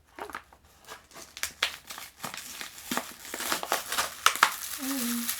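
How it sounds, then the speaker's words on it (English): Crinkly pet toy balls are squeezed and rustled in a rapid series of crisp crackling bursts, close and fairly loud, while people talk and an animal briefly squeaks near the end. "These are the crinkly balls."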